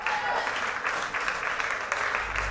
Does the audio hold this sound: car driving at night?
no